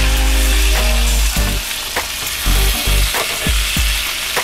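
Tokwa sisig with onions and butter sizzles loudly up close while a spatula stirs it, the continuous frying hiss broken by regular clacks and scrapes against the pan.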